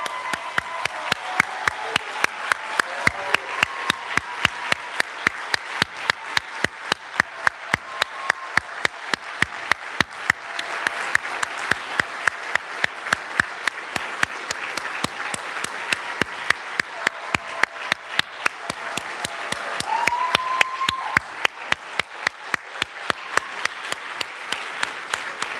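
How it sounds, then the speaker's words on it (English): Steady, sustained applause from a large audience at a 2021 Community College of the Air Force graduation ceremony, with dense, even clapping that holds throughout, plus a brief faint voice or whistle partway through. "let's give another round of applause to our 2021 Community College of the Air Force grads"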